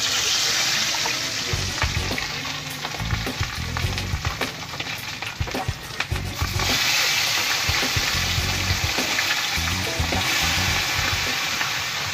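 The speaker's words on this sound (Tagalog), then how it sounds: "prito naman natin yung mga huli natin iba" Freshly caught assorted fish frying in hot oil, a steady loud sizzle with bubbling and crackling throughout, close up and without talk.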